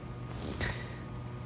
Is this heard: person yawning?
yes